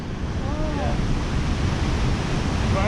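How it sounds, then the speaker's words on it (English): A river rushes through Maligne Canyon near Jasper, Alberta, a loud, constant wash of flowing water with faint wind buffeting, steady throughout with no voices. "See the way the river's flowing?"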